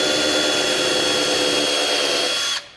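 A power drill whines at a steady high pitch for a couple of seconds while pre-drilling hardwood, then winds down and stops.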